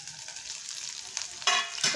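Potatoes hitting hot oil tempering in a pan give a soft, steady sizzle with brief louder bursts of frying near the end.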